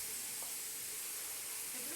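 Turmeric and vegetables frying in a hot pan give off a steady, soft sizzle, a continuous hiss that stays fairly quiet and even, with no talking.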